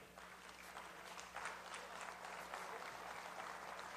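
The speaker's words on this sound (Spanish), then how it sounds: "un parlamentario, Fabricio Ojeda, para quien yo pido un fuerte aplauso" Faint, steady applause from a National Assembly audience at a commemoration, a continuous wash of clapping that holds for several seconds without voices standing out.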